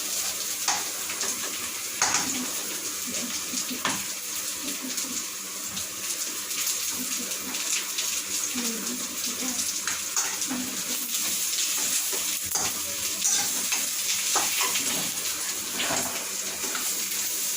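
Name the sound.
sautéing ingredients in a pan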